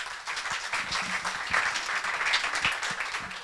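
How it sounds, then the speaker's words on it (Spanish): A crowd applauds steadily, many hands clapping in a dense, continuous patter that fills a room. "Entonces un fuerte aplauso por favor para John."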